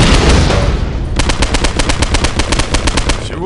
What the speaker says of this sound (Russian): обычный автомат, по-моему, работает гораздо лучше